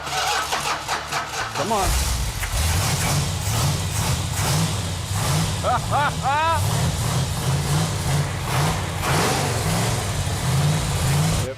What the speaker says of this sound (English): It feels really good to hear that engine run.